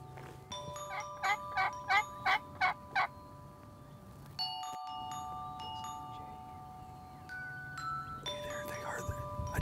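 Wild turkeys in Oklahoma, with hens flying down from the roost: a run of six loud, evenly spaced gobbling calls early on, then softer calls and bird chatter in open outdoor air with no one talking.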